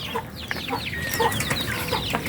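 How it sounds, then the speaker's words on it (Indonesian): Pelung chickens in a poultry pen cluck repeatedly in short, uneven calls at close range, with other fowl chattering faintly around them. "Kemudian ini adalah jenis ayam pelung"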